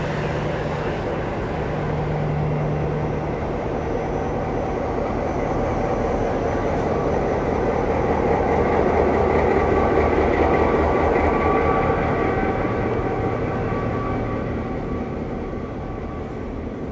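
A V/Line train passing an abandoned country railway station, a sustained rumble and rolling clatter of wheels on track that swells toward the middle and slowly fades, heard close with no talking.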